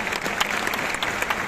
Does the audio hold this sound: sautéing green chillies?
no